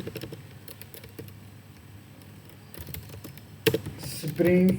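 Fingers typing on a computer keyboard into a browser: a run of light, irregular clicks and taps at close range, with a brief pause partway through and a few louder knocks near the end.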